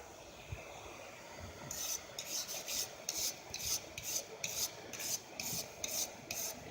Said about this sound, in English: Scrape it off with the scrub brush.